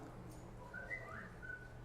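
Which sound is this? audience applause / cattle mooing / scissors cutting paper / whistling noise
whistling noise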